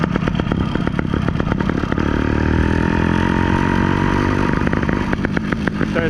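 An 85cc ZTMoto Phantom motorized bike engine kit with a chainsaw cylinder fires up with rapid clattering pulses, then settles into a loud, close, steady idle.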